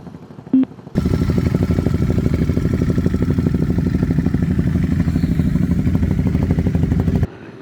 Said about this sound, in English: a KTM right next to me, and it is loud.